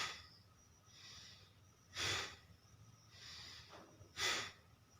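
Forceful nasal belly exhalations during a Kapalabhati breath-of-fire exercise: two loud, sharp close-up bursts about two seconds apart, with softer breaths in between.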